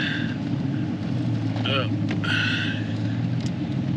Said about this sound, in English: Car just went by me.